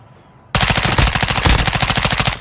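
Video-game automatic gunfire erupts after a half-second of quiet, a loud, rapid, evenly paced burst of shots that runs continuously to the end, close and dominant with no talk over it.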